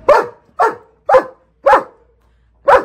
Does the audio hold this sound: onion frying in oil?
no